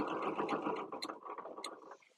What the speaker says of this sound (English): See what I mean about talking while you're sewing?